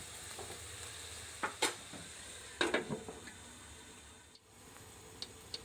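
Broccoli and pork stir-frying in a pan after a splash of water: a steady hiss of sizzling with a few sharp, scraping stirs of the spatula clustered near the middle.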